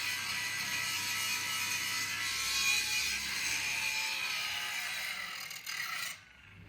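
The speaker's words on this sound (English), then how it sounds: "It's time to bust out the angle grinder to clean up the surface scale." An angle grinder scours surface scale off steel being prepared for knife forging, giving a steady harsh abrasive rasp that holds for about six seconds before cutting off abruptly.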